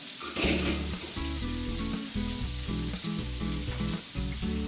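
Chicken thighs and drumsticks fry in their own rendered oil with a steady, close, fairly loud sizzle and crackle that runs without a break, with a faint stirring clatter and no voices.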